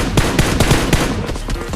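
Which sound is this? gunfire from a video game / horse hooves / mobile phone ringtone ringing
gunfire from a video game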